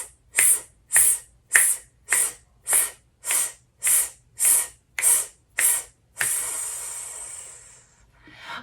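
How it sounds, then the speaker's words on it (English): A series of ten sharp, evenly spaced breath pulses hiss out through the lips during a vocal warmup breathing exercise, then one long steady exhale fades away, close and clear. "we're going to exhale on a pulse"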